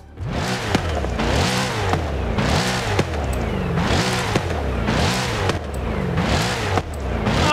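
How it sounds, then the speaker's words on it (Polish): A Chevrolet Corvette E-Ray in Forza Horizon 5 revs hard through repeated rising pulls, each climb cut by a gear change, its exhaust loud and close with no talking. "Jesteście gotowi na test wydechu?"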